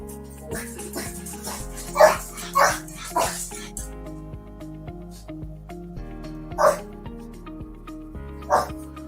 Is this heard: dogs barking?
yes